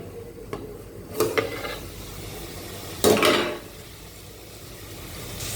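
Small prawns sizzle in oil in a pan with ground coriander, turmeric, chili and garam masala. A steady low frying hiss is broken by two louder bursts of stirring and scraping.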